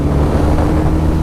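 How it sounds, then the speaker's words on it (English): Benelli Leoncino motorcycle exhaust giving a steady, hoarse low rumble, loud and close throughout with wind buffeting over it and no talking. "I also enjoy quite a lot of this exhaust note. It just sounds very hoarse."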